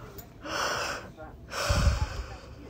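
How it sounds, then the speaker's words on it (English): A person yawning during a casual podcast: two long, breathy, drawn-out exhalations close to the microphone, each swelling and fading, with a soft vocal quality. "Besides all my yawning"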